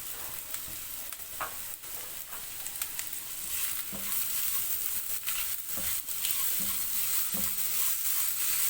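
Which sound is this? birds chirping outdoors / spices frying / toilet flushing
spices frying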